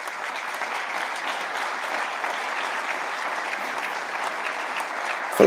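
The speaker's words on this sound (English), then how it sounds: "Please clap." Applause rises in a hall during a South Dakota governor's State of the State address, an even, sustained crowd clapping that holds steady from start to finish, fairly distant and unaccompanied by speech.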